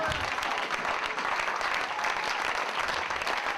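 A church congregation applauds and acclaims the Lord, steady dense clapping and cheering from a large crowd filling the space evenly for a few seconds.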